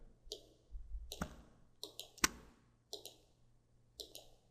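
Computer mouse clicking: six or so crisp, quiet clicks, some doubled, spaced roughly a second apart over soft background hum, with no speech.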